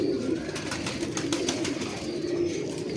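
Pigeons in a breeding setup coo softly and continuously nearby, a low warbling hum with a brief flutter of wings beneath the steady murmur.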